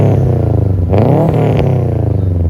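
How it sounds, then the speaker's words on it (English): A Subaru car engine rumbles loudly and close, with a deep burbling exhaust note from a full aftermarket exhaust that swells briefly as it revs. "It's just the very traditional Subaru rumble"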